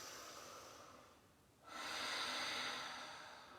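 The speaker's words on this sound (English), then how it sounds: "you can use the back of your throat as your ujjayi breath" Ujjayi yoga breathing from the back of the throat: a soft, husky exhale, a brief pause, then a louder, gravelly, hissing inhale, close and without talk.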